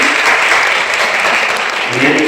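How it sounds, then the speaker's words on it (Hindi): Audience applauding loudly and steadily at a devotional Mahashivratri gathering, continuous dense clapping from a crowd throughout, with a faint voice underneath. "तो मैं एक बार जोरदार तालियां चाहता हूँ बहन के लिए।"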